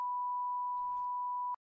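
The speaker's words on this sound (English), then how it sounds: "you can only hear the beep" A single steady electronic beep holds one clean tone for about a second and a half before cutting off sharply, with a faint murmur partway through.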